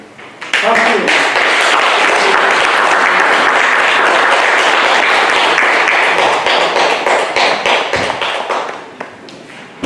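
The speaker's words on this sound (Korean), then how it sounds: "박수." An audience at a Won Buddhist meditation lecture in Busan claps steadily for about eight seconds, a dense, close patter of many hands that thins out at the end.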